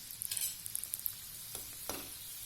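Sambharwadi deep frying in oil over medium heat, a faint bubbling sizzle punctuated by a few sharp metallic taps and scrapes of a utensil.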